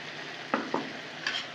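Pointed gourd with peanut and green chili paste gently sizzling in a pan, with a few quick scraping stir strokes near the middle and end, close up and without speech.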